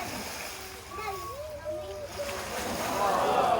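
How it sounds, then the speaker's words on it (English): A crocodile at a croc farm wrenches bait from the water, sending up close, sloshing splashes that build toward the end, with voices talking over the churn. "he's gripped onto my bait. He's trying to pull it out the water."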